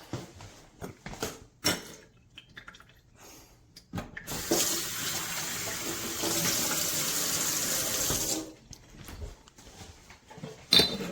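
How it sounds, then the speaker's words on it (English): A De'Longhi Eletta Explore espresso machine drains and rinses its spouts, a steady hiss of running water lasting about four seconds and framed by clicks and quieter mechanical sounds. "it also drains a little bit, cleans the spouts, just a little rinse."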